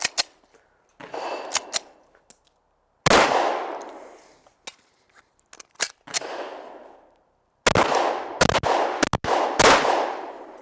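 Gunshots from a FAST shooting drill on a range, sharp close reports in quick clustered strings, broken by gaps as the shooter reloads, with no talking.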